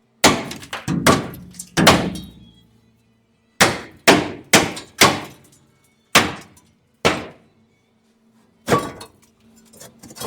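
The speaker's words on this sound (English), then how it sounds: "let's whoop on it with a hammer" A hammer strikes the rusted frame rail of a Dodge Power Wagon being repaired for rot, landing in quick bursts of sharp, loud metallic blows with short pauses between, close by and with no talk.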